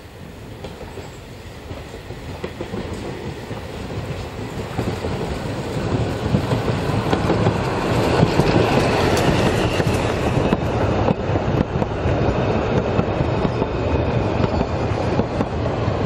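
A steam train passing a pond near Lindenberg on a heritage autumn steam run, its rumble swelling gradually from a distance to a loud, steady roar with faint rhythmic clatter of wheels on the track.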